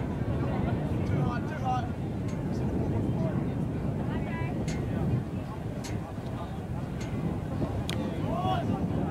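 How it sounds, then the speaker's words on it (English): Strong wind buffets the microphone at an outdoor schoolboy rugby ground, a constant loud low rumble running underneath, with a commentator talking and crowd noise in the background. "the wind's really picked up. It is buffeting."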